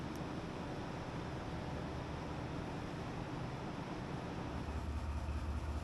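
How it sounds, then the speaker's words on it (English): A Vietnamese night passenger train hauled by a D19E locomotive produces a continuous, even rumble and rushing noise, heard steadily throughout from inside the train with no speech. "D19E locomotive, which hauls almost every passenger train in Vietnam"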